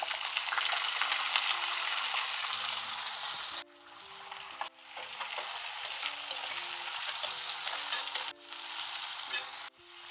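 Onions fry in hot oil for tempering, giving a loud, dense, close sizzle that runs almost continuously, interrupted by a few brief dips, with soft background music underneath.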